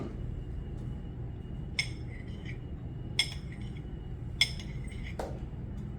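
Knife and fork working on food on a plate while practising continental-style table manners: a few sparse, light metallic clinks of cutlery against the plate, spaced a second or more apart over a steady low background hum.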